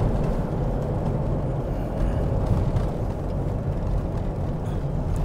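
A Toyota Innova cruising along a smooth road in the Konkan region, a steady low engine and tyre rumble with road noise, even and continuous from inside the moving car, with no talk.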